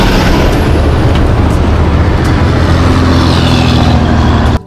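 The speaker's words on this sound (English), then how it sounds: "This is a tanker truck." A tanker truck with a low engine rumble under a broad, loud hiss of air brakes, holding steady close by before cutting off abruptly at the end.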